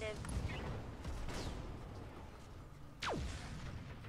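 Mech weapons fire in the Roguetech video game with dense, rumbling bursts and a sharp whistling streak partway through, all over continuous loud battle noise.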